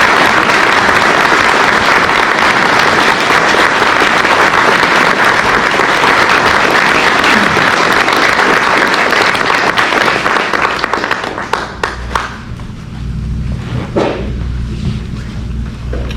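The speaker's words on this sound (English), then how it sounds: "Could we please have a round of applause for Master Warrant Officer Serge?" A crowd at a ceremony honouring local veterans applauds Master Warrant Officer Serge with loud, dense clapping for about eleven seconds, then it thins out and dies away into scattered claps and room noise.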